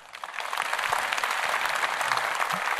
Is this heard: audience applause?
yes